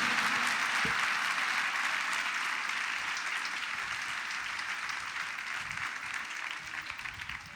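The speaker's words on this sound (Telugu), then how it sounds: "చప్పట్లు కొడుతూ ప్రభుకు స్తోత్రం చెప్పండి గట్టిగా, గట్టిగా" A church congregation claps loudly in sustained, dense applause that holds steady for several seconds and eases slightly toward the end.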